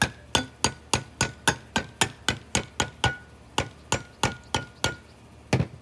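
A metal can lid is tapped shut by hand without a hammer, about twenty sharp, evenly spaced knocks in steady rhythm, close and fairly loud, with a slightly heavier final pair.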